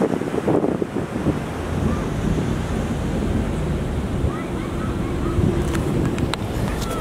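Ocean waves washing in at a jetty beach, a steady broad rush of surf mixed with heavy wind buffeting the microphone throughout, with brief faint sounds near the end.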